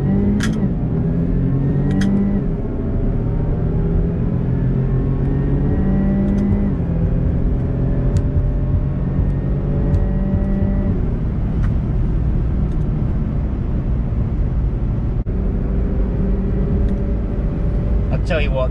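Engine of a 340-horsepower British SUV with a ZF 8-speed automatic, heard from inside as a steady rumble that rises and falls in pitch through repeated revs and shifts, loud and continuous.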